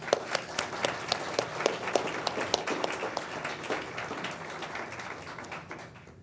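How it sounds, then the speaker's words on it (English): A crowd at an Indiana University Phi Beta Kappa ceremony claps steadily for several seconds, a dense patter of hands that gradually fades toward the end. "Let's give them all a big round of applause."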